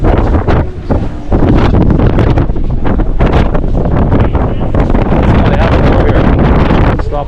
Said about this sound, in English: Stop the wind.